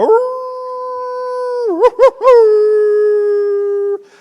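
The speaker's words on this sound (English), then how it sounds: "that's somebody's hound dog. That's not a coyote." A hound dog in an old movie howls in one long, loud, sustained tone that wavers and breaks into a few quick yips midway before settling back into the steady howl.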